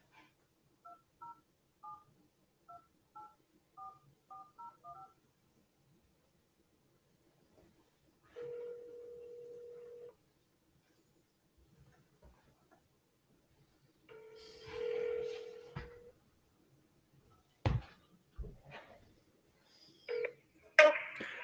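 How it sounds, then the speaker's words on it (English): Telephone dialing tones sound as a quick series of short, faint beeps. Longer steady tones and a few clicks and knocks follow, with quiet gaps between them. "We're going to see if it dials"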